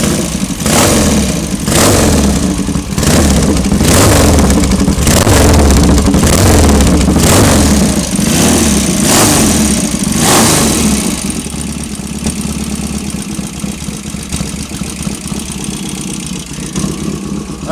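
A Norton Ranger 750 motorcycle engine, warm and with a known oil leak, runs loud and close with a throaty, pulsing exhaust beat, revving through blips before settling into a steadier, slightly quieter tick-over.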